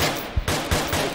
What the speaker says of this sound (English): Did you see where the fuck the shots came from?